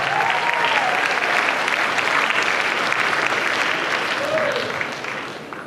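Sustained applause from a convention crowd at a cosplay contest for a contestant dressed as the Ice Queen from Adventure Time, dense and steady throughout before tapering slightly at the end, with a brief whistle or cheer rising above it.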